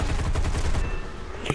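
Rapid bursts of aircraft machine gun fire in War Thunder, a dense, fast stutter of shots that stops abruptly, followed by a brief gap and one final sharp report.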